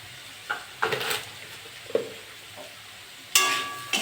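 Bitter gourd and potato fry in a pan under a faint sizzle, broken by several sharp scrapes and clinks of a utensil stirring against the metal, with one louder clatter near the end.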